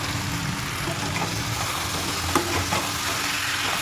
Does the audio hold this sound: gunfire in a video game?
no